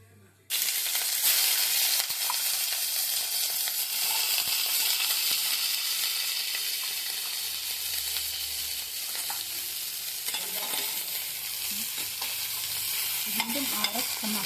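Cardamom pods, cloves and cinnamon bark crackle in hot oil, a loud, sudden hiss that settles into a steady sizzle, with a few clinks of a utensil near the end and no voices.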